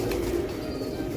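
Pigeons with red eyelids coo at a keeper's home loft, a close, low, throaty warble that holds steady through the short stretch, with no talk over it.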